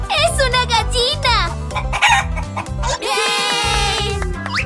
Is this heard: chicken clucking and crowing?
yes